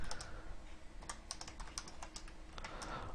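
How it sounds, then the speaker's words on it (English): Quick, uneven clicking of keys on a computer keyboard, close and quiet, in short bursts with brief pauses. "let me finish typing this out here"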